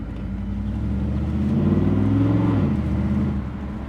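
An LT1 Firehawk engine runs loud and close, a rough low rumble that swells briefly in revs around the middle before settling back, with no voices.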